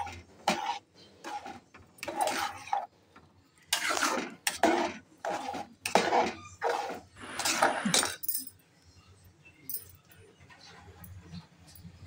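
Ambadi greens, ground in a mixer, are stirred in a pot as a traditional dish, with bursts of scraping and clinking against the metal in short uneven strokes, a voice speaking between them.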